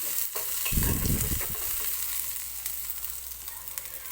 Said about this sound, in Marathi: तर हे बघा, कांदा मी भाजलेला आहे या तेलामध्ये.